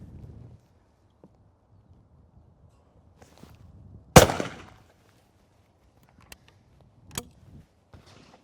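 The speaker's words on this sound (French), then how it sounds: "il est temps à présent de tester ce petit 20 Magnum avec des cartouches chargées entre 28 et 30 grammes" Gunshots ring out from a Rizzini RB Regal EL 20 Magnum over-under shotgun loaded with standard 20-gauge 28–30 gram shells: one loud, close blast with a short decay, then a sharper second shot about three seconds later, with faint clicks between.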